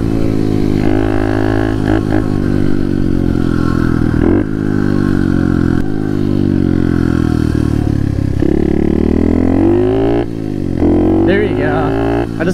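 A 110cc motorcycle ridden supermoto style: close, loud engine drone that rises and falls through revs and gear shifts, with occasional clatter, continuous throughout.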